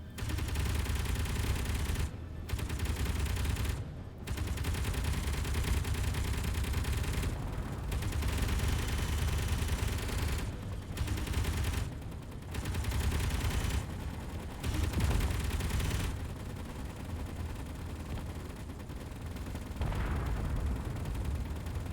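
Gatling turrets in the space game Space Engineers fire sustained, loud bursts at a drone, a dense continuous roar of rapid gunfire broken by a few brief pauses, with no talking.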